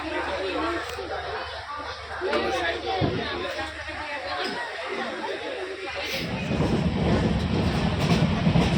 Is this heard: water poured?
no